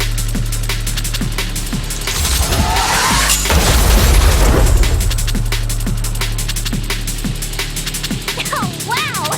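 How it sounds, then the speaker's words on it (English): A big blast in the Honkai: Star Rail game swells into a loud booming roar that peaks midway and trails off into crackling debris and scattered game effects. "We wiped them all out in a single explosion!"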